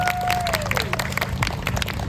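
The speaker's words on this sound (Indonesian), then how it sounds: "Beri tepuk tangan dulu" Audience applause and crowd noise at a literature and science festival stage event, scattered claps under a room murmur, with a sliding tone fading out early on.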